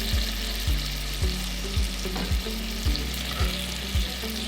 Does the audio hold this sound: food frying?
yes